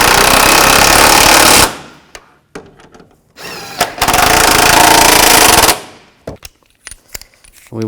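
Impact wrench tightening strut bolts on a 2006-2010 Volkswagen Jetta during strut assembly installation: two loud sustained rattling bursts, each over a second long, separated by quieter clicks and handling noises.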